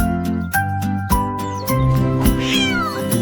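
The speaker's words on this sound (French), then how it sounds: "Une chatte était assise au sommet du mur du jardin." A cat meows several times in a playful children's nursery song, the close, loud mews riding over bouncy music with steady beats.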